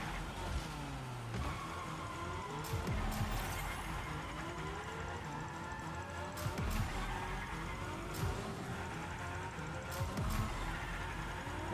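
Cars drift in Fortnite Rocket Racing, with repeated tire squeals and skids sliding over a constant engine roar and game effects throughout.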